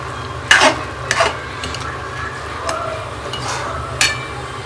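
Pieces of bajra rotla stirred in a pan over low sizzling heat, with a few sharp spoon scrapes and clinks against the pan above a steady background hum, close by.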